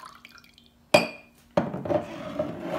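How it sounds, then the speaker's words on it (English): Freshly squeezed juice poured into a glass cup, with a sharp clink as the glass is set down, then a second knock followed by a trickling, splashing pour, close and with no talking. "so I'm going to bring in my glass cup and pour it in."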